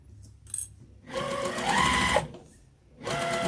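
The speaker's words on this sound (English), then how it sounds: "just sew it on." Sewing machine stitching flannel for an infinity scarf, running in two close bursts of rapid steady whirring with a short pause between them, loud and alone.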